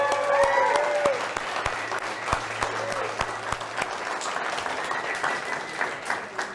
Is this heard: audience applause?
yes